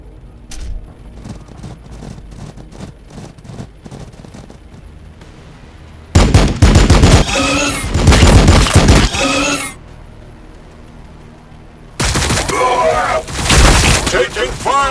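Gunfire and explosions ring out in Warhammer 40,000: Battlesector: two loud bursts of booming blasts and rapid shots break over quieter stretches of scattered pops and battlefield noise.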